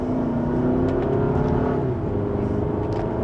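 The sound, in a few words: 2027 Kia Telluride accelerating in sport mode, second gear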